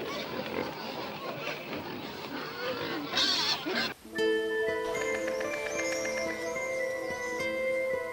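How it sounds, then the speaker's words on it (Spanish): A herd of pigs grunts and oinks in a rough, noisy jumble for about four seconds on a farm near Trujillo in old Spain, then gives way to sustained tonal music. "conduce como cada mañana la piara de cerdos de su abuelo"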